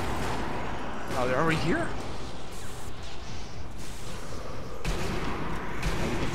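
Pistol gunfire in the Sniper Elite V2 Nazi Zombie Army co-op game, a dense run of sharp shots and crashing hits spread through the clip, loud in the mix under steady game noise and players talking.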